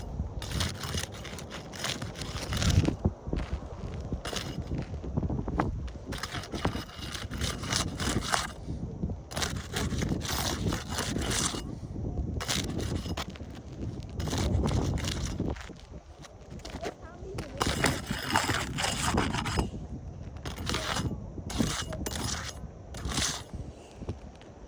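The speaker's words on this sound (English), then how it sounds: "wind damage shingle, gonna start unsealing." Pry tool working under wind-damaged roof shingles to break their seal, giving bursts of crackling, scraping and tearing, close and uneven, with brief pauses between strokes.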